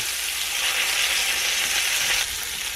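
Breakfast sausage frying in a pan for sausage gravy, a dense, loud, continuous hiss of sizzling fat that dips slightly toward the end.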